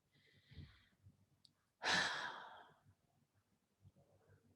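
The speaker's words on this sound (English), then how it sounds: "So take a deep breath in and relax" A single deep breath during a guided meditation, heard as a soft breathy inhale-exhale lasting about a second and a half, set between quiet low murmurs of background sound.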